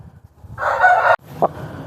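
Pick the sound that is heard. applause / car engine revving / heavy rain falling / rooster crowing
rooster crowing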